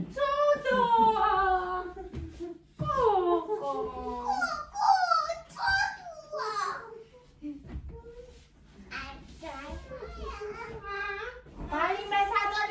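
A dog whimpers and whines at home among several high, rising and falling cries, heard up close, with a voice mixed in and nearby household bustle.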